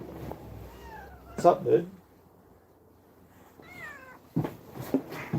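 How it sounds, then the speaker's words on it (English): A house cat meows a few times, with short harmonic calls rising and falling, close by and fairly clear, while someone talks casually in between. "meet the cat"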